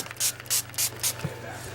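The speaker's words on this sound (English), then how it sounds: "If I want a lot more color, I just keep spraying." Short bursts of mica color spray from a spray bottle, four quick hissing puffs in a steady rhythm, close and clear over a faint background hum.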